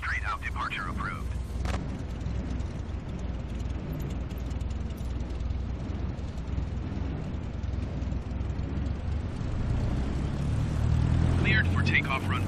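A Cessna 172 Skyhawk in Microsoft Flight Simulator, its steady propeller-engine drone building slightly toward the end as it rolls for takeoff, with radio chatter over it.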